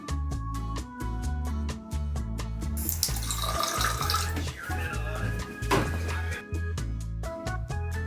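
Water runs from a tap in a steady stream for mixing PVA glue, splashing and shifting in tone midway, with rhythmic clicking and background music throughout.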